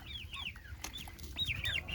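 Chickens cluck in a short run of rising and falling calls at a ranch in freezing winter weather, fairly close and clear over a low steady background rumble, with no talking.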